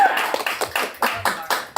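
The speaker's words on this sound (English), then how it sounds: "you clap if you want them to win" An audience in a comedy room claps in distinct sharp bursts, a roughly steady rhythm of loud near hand claps repeated about every quarter second.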